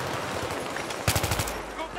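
Gunfire in Battlefield 3, a short rapid burst of about six loud shots, with a player's voice talking around it.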